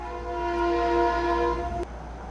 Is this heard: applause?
no